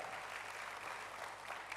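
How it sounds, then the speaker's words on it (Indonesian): Brief burst of congregational clapping in a church, a dense, even patter of many hands heard alone and fairly quiet. "Berikan tepuk tangan hebat bagi Tuhan."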